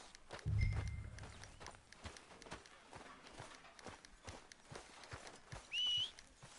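Horse hooves clip-clop across hard ground in Red Dead Redemption, a steady uneven rhythm with game-style ambience, a low thump near the start and a brief whistle-like tone near the end.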